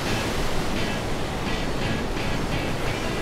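Large ocean waves off Nazaré, Portugal, where an underwater canyon builds very high surf, roar as a loud, unbroken wash of noise with faint surging swells and no voices.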